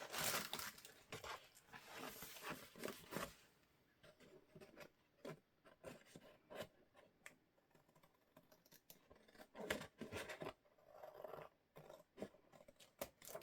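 Paper being trimmed along the bottom edge while building a craft folio, with repeated crisp cutting and rustling bursts at close range, busier early on and sparser later, no talking.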